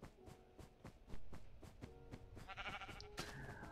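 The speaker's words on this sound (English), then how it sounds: "I forgot about all of my red sheep out here." Red sheep bleating in the Minecraft video game, a few short nasal bleats standing out against a steady game soundscape with rhythmic music-like pulses.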